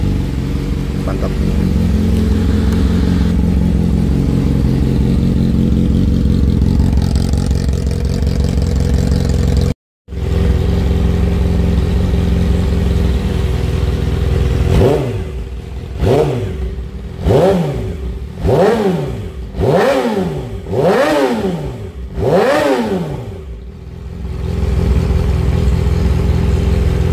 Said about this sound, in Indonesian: nikmati aja suaranya teman-teman. Itulah Moge 600cc 4 silinder.